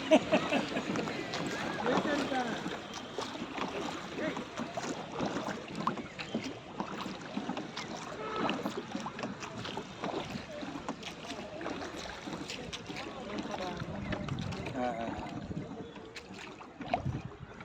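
A motor boat engine drones over a lake in Ooty, with wind noise on the microphone and people talking throughout.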